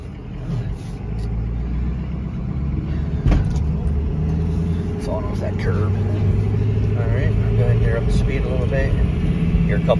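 A Ford F450 dump truck pulls away on a test drive, its engine rumbling steadily and loudly from inside the cab with shifting tones as it moves down the road.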